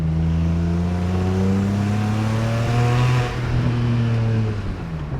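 A BMW 335i with the N54 engine revs hard under boost, a loud, close, continuous rising drone that climbs steadily in pitch, dips briefly midway and pulls on again, with no talking.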